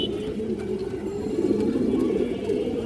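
A female army-breed pigeon coos steadily in low, rolling, continuous murmurs, close and fairly loud, with faint background noise.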